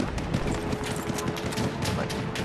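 Gunfire in the World War I shooter game Battlefield 1, a dense rattle of rapid shots and bursts with a faint horse-like clatter, steady and loud throughout the short span.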